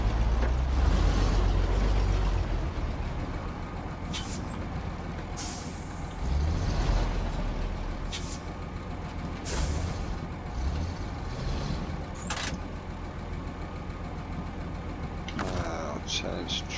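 Western Star truck in the video game SnowRunner idles with a low engine rumble while air brakes give several sharp hissing bursts spread throughout, with a short electronic beep near the end.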